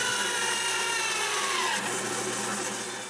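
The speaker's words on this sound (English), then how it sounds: "I use the other wedge to trace one of my test pieces and cut it on the bandsaw." Bandsaw slicing through a wooden test piece cut from a traced wedge pattern, a steady continuous whir and rasp that stays loud and even throughout, fading slightly at the end, with no talking.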